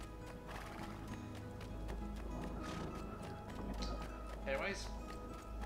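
A horse in Assassin's Creed 2 clip-clops along at a steady pace and lets out a brief whinny near the end, under a voice.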